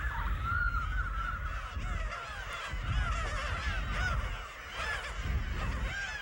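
Black-tailed gulls calling at a breeding colony on an uninhabited island off Korea's south coast, a dense, continuous chorus of overlapping harsh, mewing cries, loud and close, with many birds layered together throughout.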